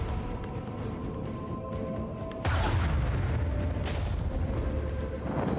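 Torpedo explosions in Warhammer 40,000: Rogue Trader, a sudden loud boom breaking over a low ambient hum, followed by a rumbling tail and a second, lighter burst.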